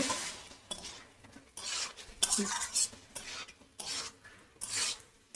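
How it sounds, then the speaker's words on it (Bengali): Young jackfruit and shrimp stirred in a pan, with repeated scraping strokes of a metal utensil against the pan over a faint sizzle, close and fairly loud. "দিয়ে এবারে নাড়তে থাকবো"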